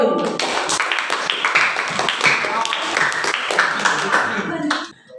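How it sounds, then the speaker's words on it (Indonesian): Clapping from a class in a classroom, close and fairly loud, continuing for several seconds before stopping abruptly. "Tepuk tangan untuk Mbak Anggun."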